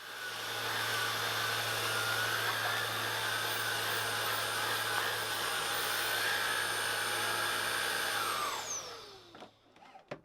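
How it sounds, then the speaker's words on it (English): A vacuum cleaner runs steadily on the floor mats of a Honda CR-Z, a loud constant whine and rush that winds down and cuts off near the end, with no voices. "spent 5 minutes or so working them over with the vac"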